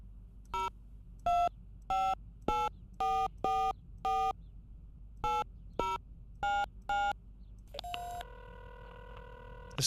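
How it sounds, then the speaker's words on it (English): A telephone number is keyed in The X-Files Game, giving a string of about fourteen distinct touch-tone beeps in an uneven rhythm, followed by a connecting tone, clear and close. "I wonder if I dial that, if I get an option to order something."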